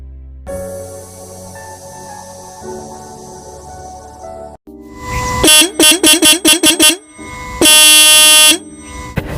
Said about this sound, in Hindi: ये इतनी तेज तेज हॉर्न बजाया जा रहा